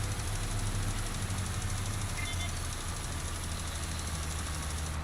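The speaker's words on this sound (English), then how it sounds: "We can listen to the sound of the tractor." A tractor engine runs steadily on the Iowa plains, giving a constant low droning rumble with a faint knock in it. It sounds close and unchanging throughout, with no talk over it.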